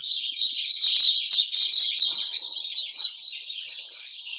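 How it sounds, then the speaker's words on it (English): Birds sing and chirp continuously at sunset in a dense, high-pitched chorus, with no voices present. "these are birds"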